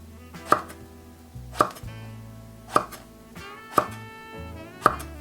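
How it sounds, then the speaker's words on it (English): Knife chopping an eggplant into bite-size pieces on a cutting board, five sharp, evenly spaced cuts about one per second, close and clear, with a low steady hum underneath. "So you turn, you slice, you turn, you slice."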